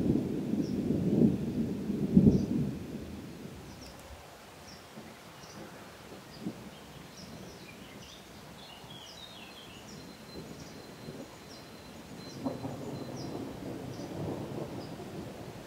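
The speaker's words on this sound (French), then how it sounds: "L'orage gronde." Low thunder rumbles through a Provence thunderstorm, louder at the start and again near the end, with steady rain and soft rustling beneath and faint bird calls in the distance.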